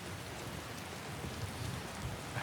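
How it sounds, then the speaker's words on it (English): Steady rain in the Skyrim video game falls evenly and softly throughout, a continuous wash of drops at moderate distance with no voices. "It'd be good if it was not raining."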